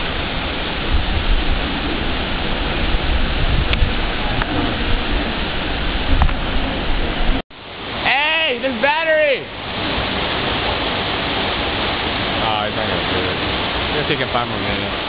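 Waterfall roaring as a steady, loud broadband rush for the first half; after a sudden cut, the noise continues more dimly while voices shout and talk over it.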